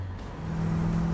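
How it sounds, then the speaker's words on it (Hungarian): Corvette C3 engine under gentle throttle, a low steady hum that swells slightly louder over about a second while the revs barely climb. "Fordulatszám alig emelkedik a motor, kicsit hangosabb lesz."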